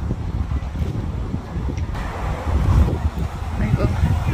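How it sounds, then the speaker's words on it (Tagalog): Gusty wind buffeting outdoors at a lake park in Seoul, a rumbling, uneven roar that swells toward the end, with faint voices underneath. "Dahil mahangin sa labas."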